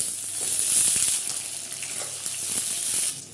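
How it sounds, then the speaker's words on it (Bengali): Eggplant pieces frying on high flame in hot oil for a festival vegetable dish, a steady close hiss with scattered small crackles and spits running through the whole stretch, no voices. "এবার এখানে দিয়ে দেবো বেগুনগুলো"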